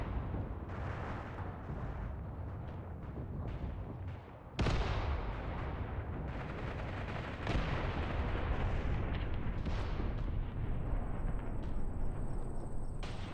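Artillery in the WWII video game Mius Front, a dense, continuous barrage of booming blasts and rumbling explosions, loud and unbroken, with a sharp heavy impact partway through and no voices.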